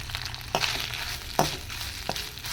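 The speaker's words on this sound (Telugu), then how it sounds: "సిమ్లో పెట్టేసి మొత్తం ఫ్రై చేసుకోవాలండి." Freshly grated coconut frying on low flame for a coconut sweet, a soft continuous sizzle broken by three distinct scraping stirs, close up and moderately quiet.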